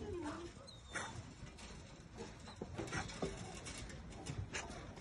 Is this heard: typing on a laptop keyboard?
no